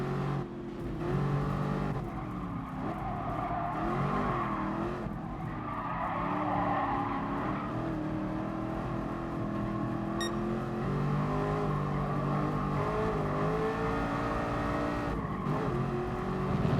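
Race car engine in the GT Sport video game, a steady loud droning roar with shifting pitch as it revs across the whole stretch, with faint tire noise and no talk.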